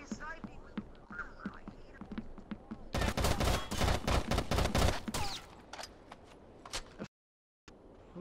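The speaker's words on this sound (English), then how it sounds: "Who's shooting at him?" Video game gunfire rattles in a dense burst of rapid automatic shots lasting a couple of seconds, preceded and followed by scattered single shots, with someone talking intermittently and a brief dropout of silence near the end.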